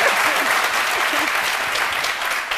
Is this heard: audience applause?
yes